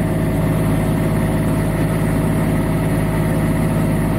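Steady, continuous hum and whoosh of hydraulic fluid flowing through a hose on a Niftylift HR28 / SP85 boom lift with no lift power on the secondary boom, close and unbroken throughout.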